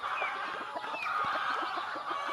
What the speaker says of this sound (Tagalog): Oprington, buff Oprington, 2 months old, buff Oprington.